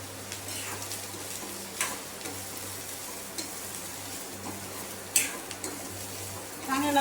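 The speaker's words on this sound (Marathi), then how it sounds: "सगळ्यात आधी आपण हे कांदा परतून घेऊ चांगला। लसणाच्या पाकळ्या आणि अद्रक टाकून घेऊ।" Onion, garlic cloves and ginger sautéed in a pan for dhaba-style shev bhaji, giving a steady low sizzle with occasional stirring scrapes and clinks of the spoon against the pan; close, no talking.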